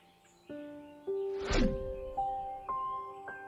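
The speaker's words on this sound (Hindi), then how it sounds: "मंदिर की घंटियां और चिड़ियों की मीठी आवाजें" Temple bells ring out one after another in a sparse, steady sequence, with a brief bird chirp partway through, against a quiet background.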